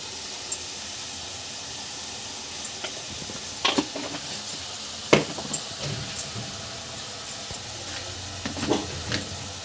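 Spices frying in oil for a Bengali fish curry with potato and cauliflower: a soft, continuous sizzle broken by scattered stirring clicks and scrapes, with a few sharper pops near the middle and end.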